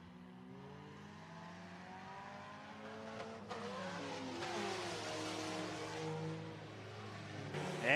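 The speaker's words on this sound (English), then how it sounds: "As you hear them chirping off the chip there and grabbing gears as they come off of turn number 2" Compact race cars on a dirt oval, several cars pulling off turn two with engines revving up through gear changes and brief tire chirps, a steady mid-distance roar building toward the end of a heat race.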